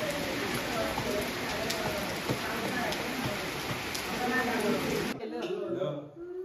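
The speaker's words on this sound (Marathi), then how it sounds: "बाहेर पाऊस पडतोय" Steady rain falls outside a house in Rajapur during a Jayanti celebration, a dense continuous hiss that stops abruptly near the end, leaving quieter room sound.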